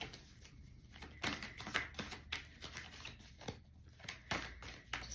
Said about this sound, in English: Just want to give them a good shuffle to make sure that everything